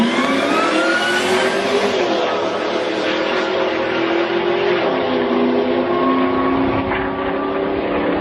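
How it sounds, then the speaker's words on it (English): Whipple twin-screw supercharged Ford Lightning pickup engine revving, a loud sustained roar with a rising and falling supercharger whine held close throughout. "This video is of a Whipple twin screw supercharged Ford Lightning."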